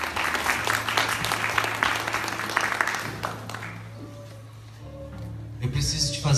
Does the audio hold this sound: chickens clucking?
no